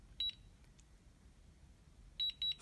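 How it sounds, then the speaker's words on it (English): Short high-pitched electronic beeps from a ScanLogic fingerprint lock sound faintly, a quick pair at the start, then a quiet pause, then another set of rapid beeps confirming fingerprint deletion. "once I get that second set of beeps, that shows that that fingerprint has been removed"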